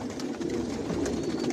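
Racing pigeons of a foreign bloodline coo softly inside a loft, a steady murmur of overlapping low calls from several birds close at hand, with no voices.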